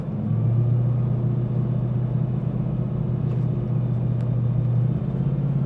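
A Jeep drives along a road, its steady low engine and road rumble droning continuously and fairly loud from inside the cabin, with no talking.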